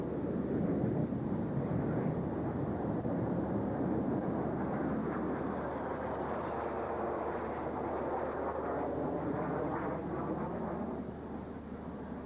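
Jet aircraft of a synchro display pair fly a manoeuvre at the F14 Halmstad air show, producing a steady, far-off broadband roar mixed with wind noise that persists without break and fades slightly at the end.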